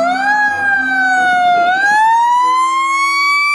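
A loud fire truck siren wails close by, its pitch sliding down and then climbing again, steady and piercing with no talking.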